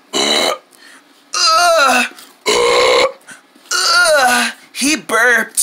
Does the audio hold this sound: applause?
no